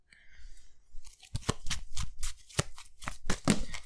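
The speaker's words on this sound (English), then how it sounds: "We have to shuffle this back in." A deck of game cards for the Arkham Horror card game is riffled and shuffled close up, a run of rapid crisp flutters and snaps lasting a few seconds, with no talk over it.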